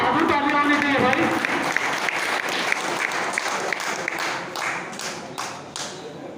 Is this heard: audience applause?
yes